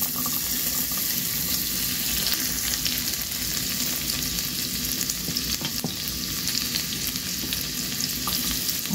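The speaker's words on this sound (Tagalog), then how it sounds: "mainit na yung ating kawali. Ilalagay na natin yung ating bawang." Chopped garlic sizzles steadily in hot oil in a wok, a dense continuous crackle with a few faint clinks of utensils, no voices.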